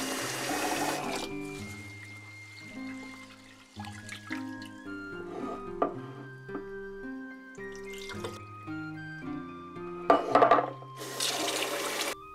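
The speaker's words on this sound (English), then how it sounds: "Take 300 grams of sushi rice and wash it 3 times." Short bursts of running and splashing water as sushi rice is rinsed in a bowl, over steady background music.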